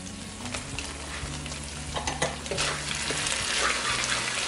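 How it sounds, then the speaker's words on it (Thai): Coconut cream and red curry paste fry together in a pan for a pineapple and shrimp curry, a close bubbling sizzle with stirring scrapes over a faint tonal background. "we going to stir coconut cream and curry paste mix well together"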